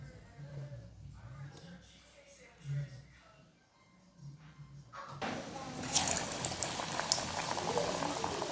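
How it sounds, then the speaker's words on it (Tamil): Plantain bajji slices dropped into hot oil in a pan set off a sudden loud, crackling sizzle that continues steadily, following quieter bubbling and a few soft knocks. "ஒரு சட்டியில் எண்ணெய் விட்டு நம்ம கட் பண்ணி வச்சுருக்கிற வாழைக்காயை வந்து நம்ம அதுக்குள்ளே டிப் பண்ணி எண்ணெயில் போட்டுடலாம்"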